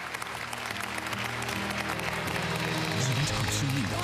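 Audience applause for a contestant after a vocal battle on a Chinese singing competition stage, a steady broad wash of clapping with music playing underneath, fairly loud and sustained throughout.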